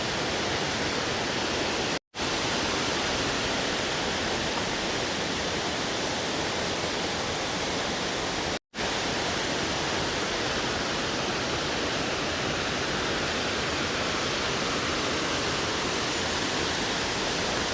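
A waterfall near Nepi roars as a steady, dense rush of falling water, close and constant, broken only by two brief dropouts.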